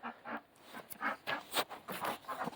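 Farm ducks quacking in a series of short, nasal calls in quick succession, close by and fairly loud, with no voices.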